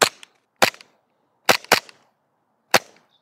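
Five sharp, crisp shots from an RWA War Hawk gas blowback airsoft pistol, fired in an uneven rhythm with two in quick succession, close and loud against silence.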